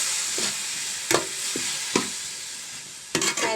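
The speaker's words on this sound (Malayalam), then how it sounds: "പൈനാപ്പിൾ ഒന്ന് നല്ലതായിട്ടൊന്ന് വഴറ്റാം" Pineapple sautés in ghee in a pan for pineapple payasam, a steady soft sizzle broken by several sharp scraping stirs of a spoon, close by and without voices.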